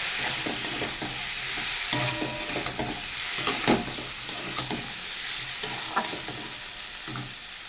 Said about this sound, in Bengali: চুনো মাছ ভেজে নেব।